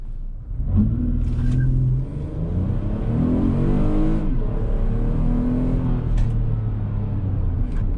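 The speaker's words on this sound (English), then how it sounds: "I'm gonna go ahead and brake boost it and see how responsive that V6 engine is" A 2021 Toyota Highlander V6 in sport mode, brake boosted and then accelerating hard, its engine note climbing steadily and loud from inside the cabin with rising tones as it pulls.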